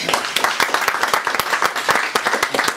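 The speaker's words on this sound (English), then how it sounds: "We have a round of applause for our speakers tonight." A small audience at a business networking evening applauds the night's speakers, close and fairly loud individual hand claps forming a choppy, uneven rhythm rather than a smooth wash, lasting only a few seconds.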